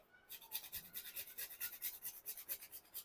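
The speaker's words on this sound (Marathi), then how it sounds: "जायफळ घेतलेलं आहे ते आपल्याला यात किसून घालायचं आहे" Nutmeg is rasped against a grater into sugar syrup for gum (dinkache) laddoos, giving a quick, steady series of close, dry scraping strokes with no talking.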